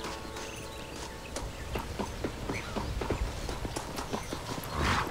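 Horse hooves clip-clop steadily in the Western video game Red Dead Redemption, a continuous walking beat over low ambient background, close and moderately loud with no talk.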